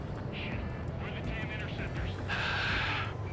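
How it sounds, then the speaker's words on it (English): A fighter jet in Ace Combat 7 streaks past with a steady airborne roar, overlaid by a high whining engine tone that swells near the end, all beneath a constant rushing wash of sound. "Oh, this is a fast freaking plane."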